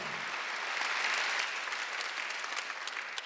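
A church congregation at a Sunday worship service applauds in one steady, dense burst of clapping that holds for several seconds with no voices over it.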